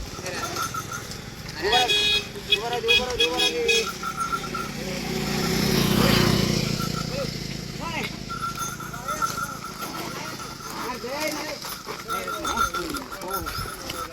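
On a village road, a vehicle swells past in a broad rising and falling whoosh near the middle, amid talking voices and hoofbeat-like clatter.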